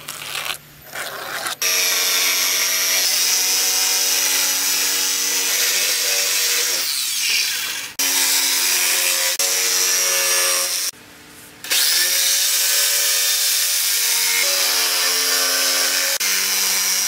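A power saw cuts through Luan plywood flooring, a loud, sustained whining rip with steady harmonic tone, broken by a few short pauses between passes.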